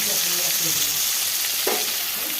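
Fresh fish frying in hot oil gives a steady, close sizzle with crackling spatter throughout, and a brief clink of a utensil partway through.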